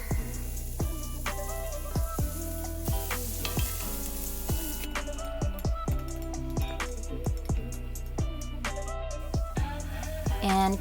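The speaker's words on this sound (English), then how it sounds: "And cook until garlic is aromatic and onion is translucent." Garlic and onion frying in a pan give a steady close sizzle, broken by frequent sharp clicks and scrapes of stirring, with a tonal backing running underneath throughout.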